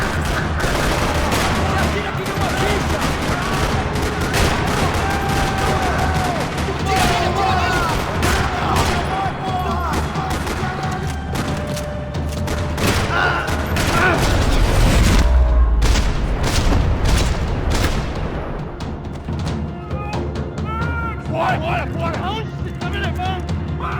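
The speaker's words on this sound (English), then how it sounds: "Another parking lot rattling with gunfire." Gunfire in a parking lot in the video game Max Payne 3: repeated sharp shots and bursts crack throughout, building to a loud, heavy boom midway and then thinning out, all against a steady bed of game sound.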